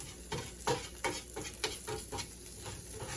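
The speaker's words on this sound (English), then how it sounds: "So what we're going to do is just let this flour brown." Flour browning in oil for chicken gravy, stirred in a pan with a steady soft sizzle and rhythmic scraping strokes about every half second, close and clear.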